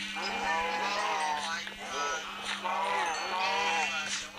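Sheep in Minecraft bleat in repeated wavering calls, three or four clear bleats in a row over a steady low game hum, loud and close.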